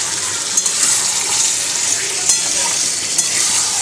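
Chicken frying in a pan while cooking biryani at home, a loud continuous sizzle with occasional stirring clicks and scrapes, close up and steady throughout.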